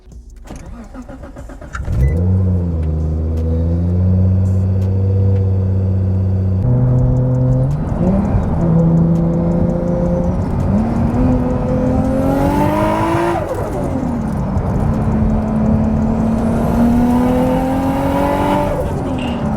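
A Nissan Skyline RB engine idles, then revs up to high RPM and holds there, loud and close, its pitch climbing and wavering with a steady mechanical drone over nearly twenty seconds.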